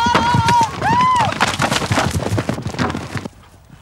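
Horses ridden across country in a military officers' drag hunt at Camberley, with a rapid thudding of many hooves and a tremolo horn call sounding over the gallop, fairly close and loud before fading.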